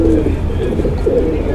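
A pigeon held close gives soft, low cooing at the start and again near the end, set against steady low background noise with a voice present.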